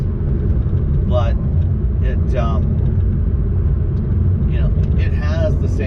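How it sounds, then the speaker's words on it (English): Lamborghini Huracan Sterrato engine drones steadily and loudly at low pitch while driving on the road, a continuous rumble running through the whole stretch, with a person talking over it throughout. "You can hear the engine, you can feel it, you can feel everything that's happening"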